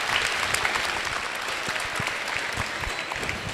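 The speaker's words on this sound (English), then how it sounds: "Let's all have a round of applause for all the teams competing here today." Sustained applause from a crowd of spectators for the competing teams at a FIRST Tech Challenge robotics qualifier tournament in McHenry, Maryland, dense steady clapping that fills the room throughout with no voices over it.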